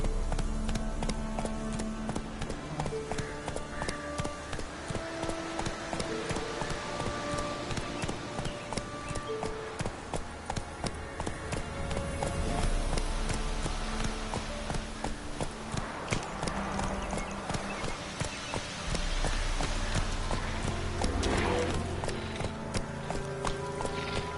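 Roach, Geralt's horse in The Witcher 3: Wild Hunt, gallops steadily with a continuous, rhythmic clip-clop of hooves, loud and close, set against a dense layer of game music and ambience throughout.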